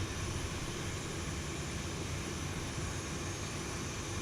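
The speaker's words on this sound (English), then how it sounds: "we got a good engine start on engine number 1" A Boeing 737-800 jet engine runs in the X-Plane 11 flight simulator, with engine number one started, giving a steady, dense, low roar and hiss that holds level throughout without voices.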